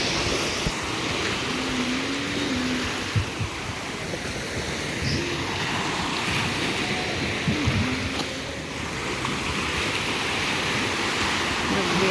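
Strong ocean waves breaking steadily on a beach seashore, a constant loud roar of surf with rolling swells and no distinct pauses, and a voice briefly speaking over it.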